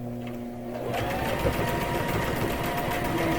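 A sewing machine starts up and stitches a quillow, a steady, fast mechanical whirr and rhythmic needle chatter close by, running continuously after a brief quiet start.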